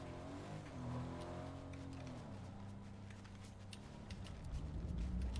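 A car engine in the Fortnite video game drives steadily and shifts pitch as it accelerates, running continuously at moderate level with no talk over it.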